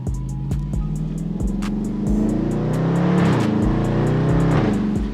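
A 2022 Dodge Charger Scat Pack Widebody with its mid muffler deleted idles with a deep, throbbing exhaust burble, then revs up in a rising, swelling note and settles back, heard close with no talk.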